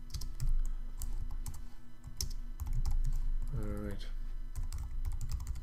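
Code text being typed on a computer keyboard for a responsive web page layout, a busy stream of close key clicks with a brief spoken word partway through.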